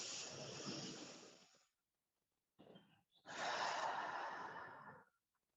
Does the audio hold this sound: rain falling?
no